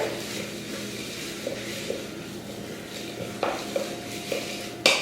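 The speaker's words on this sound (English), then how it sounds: "Give that a good stir" Diced peeled apple and oatmeal being stirred in a bowl, a soft scraping swish repeating through the stretch with a few small knocks of the spoon and one brighter clack near the end.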